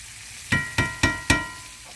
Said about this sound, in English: when this starts to cook, see those shrimp almost cooked, I'm going to add this zucchini and the squash